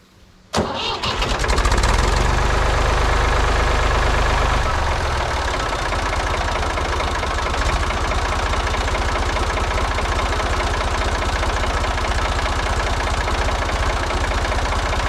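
Ford 3600 tractor engine cranking over from cold, then catching and settling into a steady, loud, rumbling idle that runs on alone without any voices.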